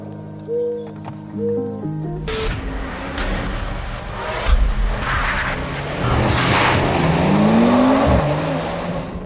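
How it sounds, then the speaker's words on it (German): An Audi S5 accelerates hard in a drag race against a Mercedes C43 AMG. Faint tones come first, then a loud engine surge swells with rising revs and shifts. It sounds near and powerful, with wind and crowd noise mixed in. "Boah, schau mal, wie der Audi wegzieht"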